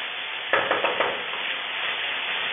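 Vegetables for a Manchow soup stirred and fried in a hot wok, a steady loud sizzle throughout with a few scraping stir strokes near the start.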